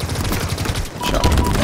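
Rapid automatic gunfire bursts loudly and continuously during a ranked Halo Infinite split-screen match, with shots crackling close together for the whole short moment.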